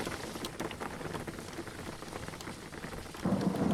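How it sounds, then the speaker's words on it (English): Rain falls in the driving game Jalopy, a dense patter of drops on the car with occasional low rumbles of thunder, growing slightly heavier toward the end. "Oh, and then as soon as you pick it, it loads all the weather and stuff. So now it's raining."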